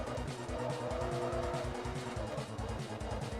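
Engine roar of a racing car in Forza Motorsport 3 with continuous squealing tires as it drifts through a turn, loud and steady throughout.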